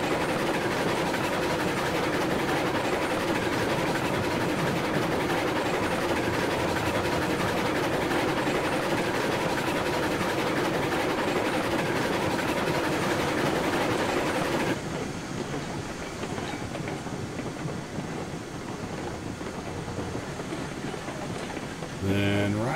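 A train in the Railroads Online game rolls across a sweeping trestle into a sawmill, giving a steady, loud broadband rumble and rattle that thins and quiets partway through as it comes off the trestle.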